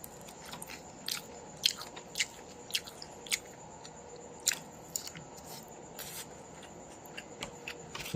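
Someone eats a dinner of egg and dried fish, with crisp bites and chewing crunches repeating irregularly, close and fairly quiet.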